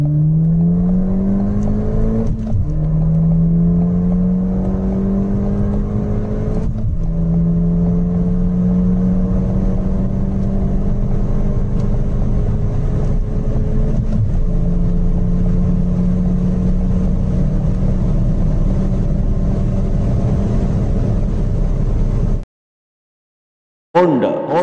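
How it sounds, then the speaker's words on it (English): A Ford Fiesta ST 200 accelerates hard from 0 to 200 km/h, its engine note climbing steadily with three or four gear-change dips along the way before cutting to brief silence near the end. "Ford Fiesta ST 200 top speed acceleration test 0 to 200 km per hour."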